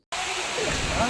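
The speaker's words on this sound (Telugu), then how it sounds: "అవి ఫాల్స్ అన్నమాట" Abbi waterfalls in Madikeri, Coorg roar as a loud, constant rush of falling water, starting abruptly and continuing as a dense, close, unbroken wash.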